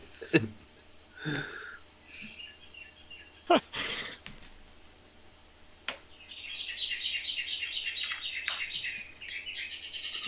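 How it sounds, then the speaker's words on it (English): A lyrebird calling on a street in an Australian city, with scattered chirps and squawks followed by a sustained, fluttering run of song in the second half, fairly distant, with no talk. "I've got lyrebirds floating around just in the street."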